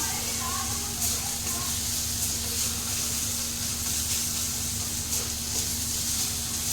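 Spices sizzling in oil in a pan for a dal tadka, a steady close hiss and crackle that holds evenly throughout with no pauses.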